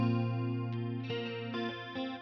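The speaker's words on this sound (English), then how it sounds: "Clean modulation." Clean electric guitar through a modulation patch on a Line 6 Helix, with chorus-like shimmer on sustained chords and a few picked changes over about two seconds, close and steady with no talking.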